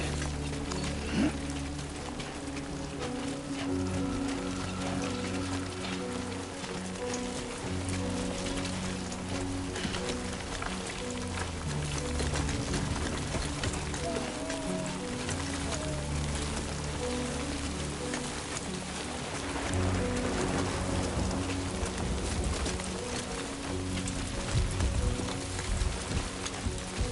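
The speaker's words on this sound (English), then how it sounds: "Great. Rain. Gotta move." Steady, dense rain falls in Kenya, a continuous close patter on surfaces that holds an even level throughout, with no voices.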